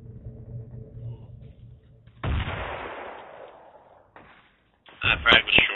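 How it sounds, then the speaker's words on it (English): In Project Reality, a frag grenade explodes with a booming burst that decays over a second or two, followed by a further cluster of sharp, loud combat blasts, with voices in the background. "That frag was short. Bounced off a tree."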